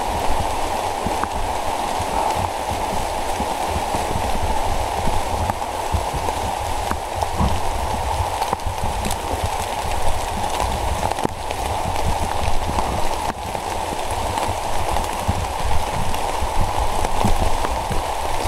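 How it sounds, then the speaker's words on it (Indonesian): Steady rain falls on a foggy night hike up Mount Kawi in East Java, a constant close hiss of drops on vegetation and ground with occasional louder spatters and no talking. "Hujannya datang, semakannya pun juga ikut datang."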